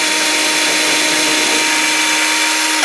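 A small Ryobi craft drill with a tiny bit bores a starter hole in wood, giving a steady, close, high-pitched whine that holds evenly throughout and cuts off at the very end.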